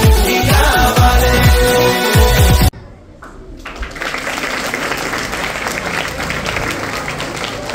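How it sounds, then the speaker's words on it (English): Audience applause after a school dance performance at an Independence Day celebration, a steady wash of clapping that follows loud music which cuts off abruptly, then builds and holds for several seconds. "Give them a big round of applause."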